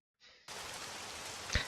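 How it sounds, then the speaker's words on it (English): Video game rain hisses in as a dense, steady wash of noise after a brief softer onset, with a short louder thump near the end and no voices. "And the rain is still here."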